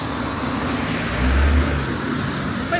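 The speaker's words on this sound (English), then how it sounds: "Wait for the noisy car to go past." A noisy car rolls past on a breezy roadside, a broad low rumble that swells to a peak in the middle and then fades, with wind noise steady throughout.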